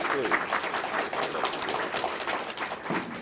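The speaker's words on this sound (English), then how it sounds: "All right, clap again for me, please." A room full of people clapping at a Black History Month event, moderately loud and sustained, with some crowd noise and scattered voices mixed into the applause.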